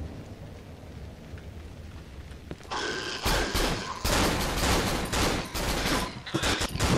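Gunfire in the horror video game Cry of Fear breaks out after a few quiet seconds, becoming a rapid, loud string of shots that keeps hammering in dense bursts to the end.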